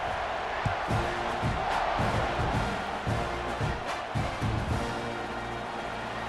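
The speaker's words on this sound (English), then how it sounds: "this crowd is buzzing after that last score" Stadium crowd in the college football video game EA Sports College Football 26, a loud, steady roar of spectators with rhythmic chanting and bursts of cheering throughout.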